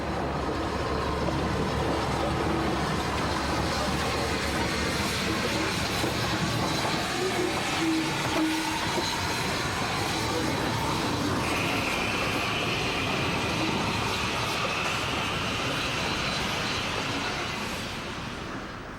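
Clan Line, a Southern steam locomotive, hauling a train toward Southampton Docks: a steady continuous rumble and clatter of rolling stock with hiss, heard close and sustained, easing slightly at the end.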